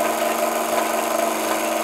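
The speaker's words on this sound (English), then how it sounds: "Noisy motor." A small Meccano E020 20V electric motor of 1949 vintage, powered by a T20 transformer and driving metal pulleys, runs steadily on its lowest setting with a constant close whirring buzz and no talk.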